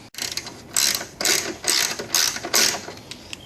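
A 10mm socket ratchet unscrews car headlight screws in five quick, close ratcheting bursts separated by short pauses, with no talking.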